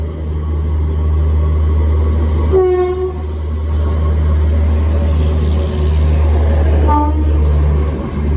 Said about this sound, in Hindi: ये सामने प्लेटफॉर्म नंबर 3 पे new Delhi Jalandhar city express